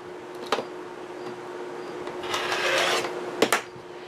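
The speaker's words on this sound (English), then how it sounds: "And then I'm just going to cut 2-inch strips." A blade cutting a fabric panel into 2-inch strips, giving soft rasping strokes with a few sharp clicks near 0.5 s and 3.5 s and a longer scraping pass around 2.5 s, close and fairly quiet.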